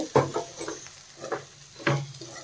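Spice powder being stirred into a drumstick fry in a pan, with a few scraping strokes of the spoon over a soft, steady sizzle.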